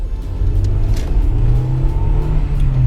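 A Honda Integra Type R VTEC engine drones loudly and steadily at high revs, a close, continuous whirring engine note with no speech.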